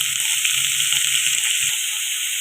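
Green chillies and curry leaves fry with ginger and garlic in hot oil for a pork roast, giving a steady bright sizzle, with a few soft stirring knocks at the start before it settles into an even hiss.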